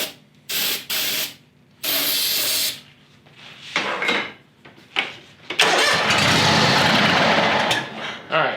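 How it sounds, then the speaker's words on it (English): A small engine with its air cleaner pulled down and starting fluid sprayed into the carburetor cranks in short loud bursts, then catches and runs roughly for a few seconds, close and loud; someone talks briefly between the attempts. "So you see that'll run now with starting fluid, this wire disconnected, and your solenoid underneath is not working"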